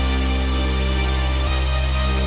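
Chord layers stacked over heavy bass in a melodic bass dubstep track fill the whole range, loud and dense, holding steady throughout with a short shift midway and no speech.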